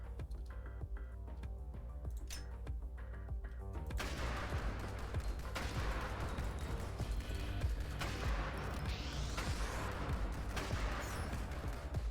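Gunfire in the shooter video game Nimrods, heard as rapid, dense bursts of shots and explosive cracks, quiet at first and then sustained loud volleys over a game soundtrack.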